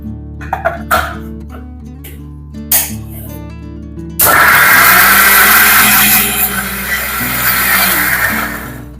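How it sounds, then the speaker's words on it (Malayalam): A mixer grinder blending arrowroot powder with water starts abruptly midway after background music, its motor a loud, steady whirring roar that runs to the end. "നമ്മുടെ മിക്സി ഉപയോഗിക്കുന്ന സമയത്ത് എപ്പോഴും ഹൈ സ്പീഡിൽ പെട്ടെന്ന് തന്നെ ഇടാതെ ലോ സ്പീഡിൽ ലോയിൽ ഹൈയിൽ അങ്ങനെ കൂട്ടി കൂട്ടി വരും"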